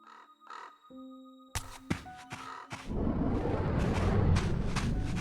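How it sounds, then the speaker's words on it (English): In the video game Legacy of Kain: Soul Reaver 2, crows let out a few sharp caws over a quiet tonal backdrop, then a burst of flapping and a dense, noisy rush of game sound follows. "Oh, birds!"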